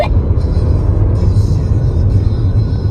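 A 2026 Toyota RAV4 holds speed through a corner at Lucas Oil Raceway, giving a loud, steady rumble of engine and road noise heard from close up inside or near the car, with no talking.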